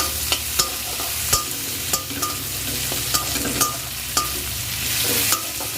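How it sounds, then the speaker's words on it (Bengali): Prawns sizzle steadily in hot oil, a loud continuous crackle punctuated by regular clacks of a spatula stirring against the pan. "তেলের ওপরে তোমার এই যে চিংড়ি মাছটা যে একটু ভাজা করে নিচ্ছি"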